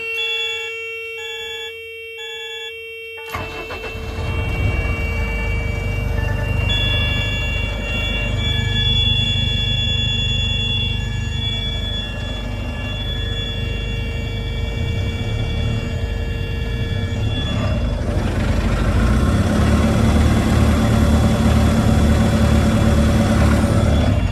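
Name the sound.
DAF truck engine starting and idling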